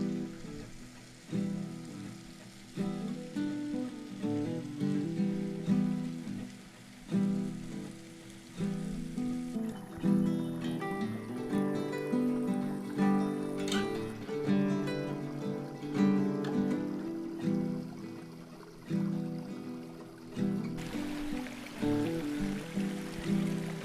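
A small wilderness creek and waterfall in Australia's Ettrema area give off a continuous rushing, splashing flow, close and moderately loud, with some uneven surges and soft background noise.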